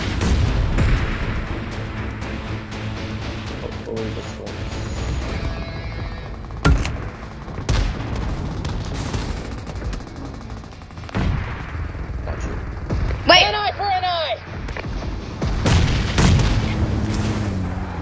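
Gunfire in the video game PUBG: dense, continuous bursts of shots and booming impacts over a busy in-game soundscape, with a short warbling effect near the end.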